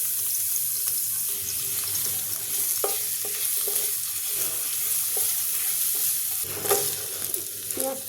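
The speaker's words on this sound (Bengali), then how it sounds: "আমি এখানে 2 টেবিল চামচ তেল দিয়েছি, রসুন পেস্টটা দিয়ে দিলাম" Garlic and ginger paste spits and sizzles in two tablespoons of oil, a close, continuous frying hiss broken by scattered stirring clicks and scrapes of a spoon against the pan, with no talking.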